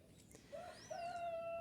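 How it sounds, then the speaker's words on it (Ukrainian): Starlings call in a garden on a summer morning, a couple of clear whistled tonal notes, the second long and steady, fairly close against a quiet background. "Вони між собою щось там цвіркочуть"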